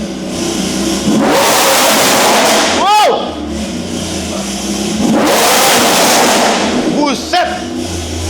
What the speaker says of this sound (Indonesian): Mendengarkan suara knalpot yang seperti itu di dalam garasi kita sendiri.